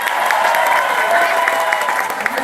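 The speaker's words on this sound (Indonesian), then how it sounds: "Tepuk tangan buat Atomy dulu." An audience at an Atomy Indonesia business talk applauds briefly. The clapping is brisk and continuous, with light cheering mixed in.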